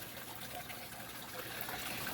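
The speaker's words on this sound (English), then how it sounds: "we've barely got water running down that edge, and it's just kind of running across the bottom of the rock and dripping over on the other side anyway" Water trickles steadily down rock in a waterfall aquarium tank, a faint, continuous wash with light dripping and no talk.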